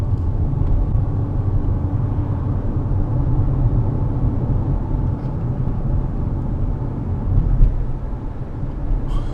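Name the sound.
small car driving past loaded with mattress and dresser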